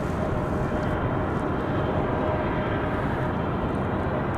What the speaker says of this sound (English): Looks like our A320 from Charlotte.